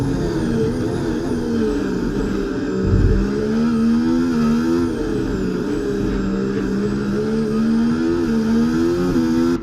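Formula 1 car in the F1 24 racing game at the Miami Grand Prix sprint race, engine screaming steadily as it accelerates out of a corner, a continuous loud high-revving drone with a brief low thump partway through.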